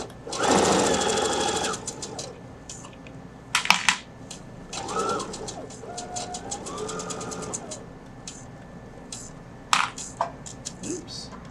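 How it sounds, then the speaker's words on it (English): Sewing machine running in short bursts while stitching the lining of a fabric zipper pouch, with pauses and a few light clicks between runs, close and moderately loud. "now I'm just going to sew this in place"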